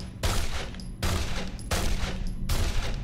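Enemy gunfire in Condemned: Criminal Origins: four loud, sharp shots, roughly evenly spaced and close, each followed by a brief ringing tail.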